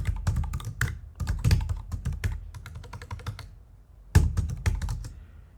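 An email address typed on a computer keyboard, with quick bursts of close, crisp key clicks broken by short pauses, heard alone without speech.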